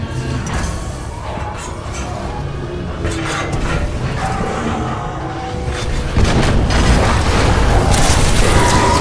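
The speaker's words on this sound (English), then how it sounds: "Explosions just weakened the manipulator arm" Dense, continuous rumbling booms and blasts from Titanfall 2 fill the whole stretch, loud and layered game explosions, with a heavier surge near the end.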